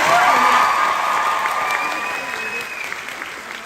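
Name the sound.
applause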